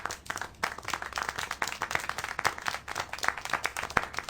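Clapping in the video game Syberia, a string of fairly close, distinct claps in a loose, uneven rhythm, some louder than others, with no talk over it.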